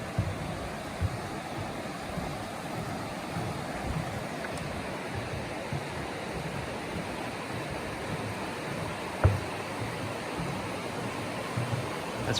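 The Toxaway River rushes beneath a suspension bridge on the Foothills Trail, a steady broadband wash of flowing water with one brief knock near the end.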